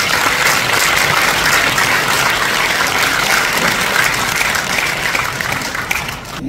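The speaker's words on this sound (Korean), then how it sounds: "시장님께 뜨거운 박수를 한번 요청드리겠습니다" A crowd at a Bucheon council inauguration ceremony gives the city mayor loud, sustained applause, dense and continuous for several seconds before starting to thin at the end.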